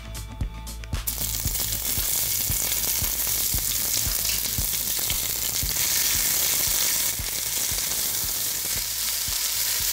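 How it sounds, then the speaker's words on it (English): Sliced onion hits hot oil with bay leaf and cinnamon in a pot, bursting into a loud, steady sizzle with rhythmic stirring scrapes and crackles, no talking. "And now sliced onion going into the pan."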